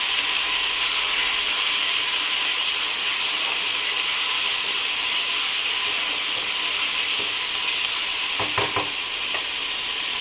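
Ginger garlic paste sizzles loudly in a hot pan with turmeric, a dense continuous frying hiss close up, with a few spatula scrapes and clicks near the end.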